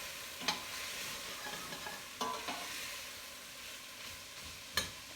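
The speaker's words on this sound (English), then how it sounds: "And we'll mix that up nicely." A spoon stirring ginger chicken and rice soup in a pot: a few distinct scraping knocks spaced seconds apart over a soft, steady simmering hiss.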